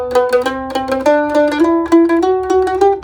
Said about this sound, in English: Let's talk about the shuffle lick. What is the shuffle lick?